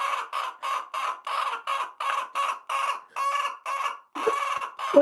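Loud, close squawks come from a pet chicken sitting on someone's shoulder: a rapid string of short, grating screeches with brief gaps, ending in a couple of longer, rougher cries.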